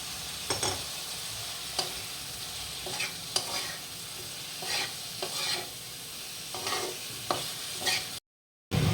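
Spice masala with homegrown ripe tomato fries and is stirred in a pan, a soft continuous sizzle punctuated by repeated scraping strokes of a spatula, ending in a brief silent gap.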